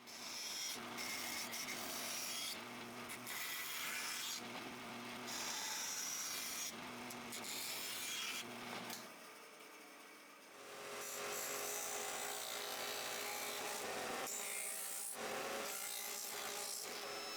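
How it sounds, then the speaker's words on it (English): A bandsaw and belt sander shape the rounded corners of a wooden seat, giving loud gritty rasping and cutting noise in uneven bursts, with a quieter pause near the middle. "then head to the bandsaw and belt sander to get it nice and perfect"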